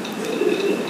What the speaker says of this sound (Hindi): रामपुरी कबूतर हैं ये भी